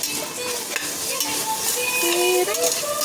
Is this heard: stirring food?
yes